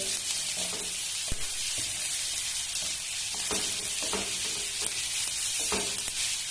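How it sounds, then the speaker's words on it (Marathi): Onion, green chili and garlic frying together in hot oil right after mustard seeds crackle, for a drumstick flower vegetable dish; a steady close sizzle runs throughout, broken by occasional scrapes and taps of stirring. "मोहरी तडल्यानंतर हा मी कांदा आणि मिरची आणि लसूण सगळं एकत्र मिक्स करून घेते"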